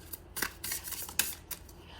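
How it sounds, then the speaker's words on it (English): Tarot card deck being shuffled, quick papery riffles and slaps in several short bursts close by, with no talk. "let me just shuffle my cards well"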